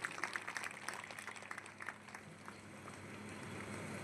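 An audience claps at a Hindi poetry gathering (kavi sammelan) in Daltonganj, a crowd of scattered hand claps fairly faint and distant, dense at first and thinning out over a few seconds.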